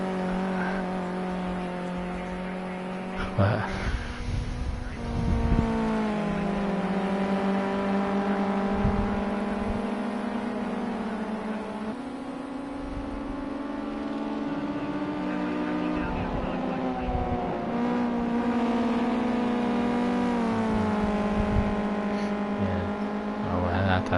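Race car engine from a racing video game at Oulton Park Island, a steady droning tone with shifting pitch running throughout, heard under ongoing commentary speech.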